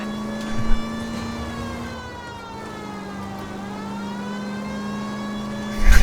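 A long, sustained car tire screech in the video game L.A. Noire, with a steady high squeal that bends in pitch, loud and continuous, ending with a burst of noise.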